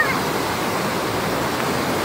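A waterfall on a swollen, flooded river gives off a steady, dense roar of rushing water that holds evenly from start to finish without a break.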